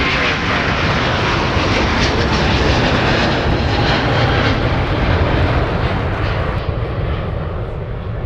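Airbus C-Series jet taxiing out of the alley at Minneapolis–St. Paul airport, a loud, steady engine roar with broadband rumble that holds throughout, no talk over it.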